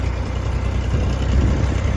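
Tractor engine running steadily while driving through hilly countryside, a continuous low rumbling drone close by with no one talking.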